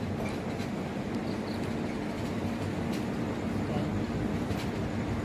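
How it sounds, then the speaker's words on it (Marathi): The Karmali Express, running from Lokmanya Tilak Terminus in Mumbai to the Konkan in rainy weather, rumbles steadily along the rails with a constant, loud roar and faint rhythmic clicks of the wheels. "ट्रेन सुटली करंजाणीवरनं आता"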